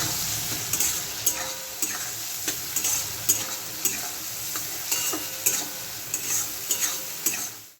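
A spoon stirs a fish roe mixture with ginger-garlic paste in a sizzling pan, giving repeated scraping strokes at a steady rhythm over a constant close frying hiss, with no talk.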